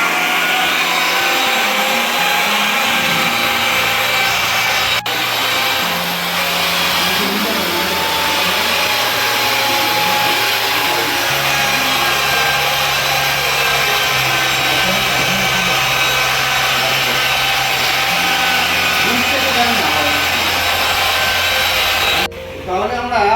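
A power sander works an old epoxy floor with 1000-grit sandpaper, making a steady, loud, continuous whirring drone with a shifting low hum that runs unbroken for over twenty seconds.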